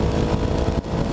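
A small-displacement motorcycle engine heard while riding on roads in the Philippines, a steady close drone with wind noise and a brief dip in loudness.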